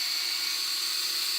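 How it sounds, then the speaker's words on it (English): A drill bores a large hole for a scroll saw Valentine's gift project, giving a brief, steady high-pitched whine at constant speed from start to end. "where we're drilling that one, you need quite a large hole."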